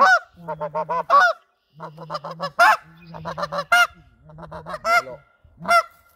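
Rapid, rhythmic goose honks come in quick bursts and sharp high yelps, a snow goose call imitated on a caller, loud and close.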